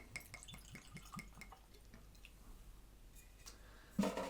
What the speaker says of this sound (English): Let's pour it, give it some air like it says so.